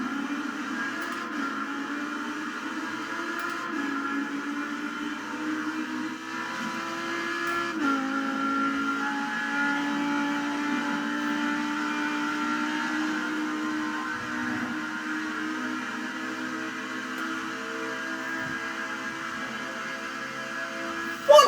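Loud, steady engine whine with stepped pitch shifts as gears change down, a high-revving V10 race car engine in a video game, held near and constant.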